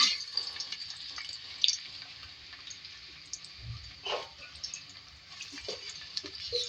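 Two medium onions fry in a pan for an aloo matar phool gobhi sabzi, giving a soft, steady sizzle with a few scattered scrapes and clinks of stirring, quiet and close.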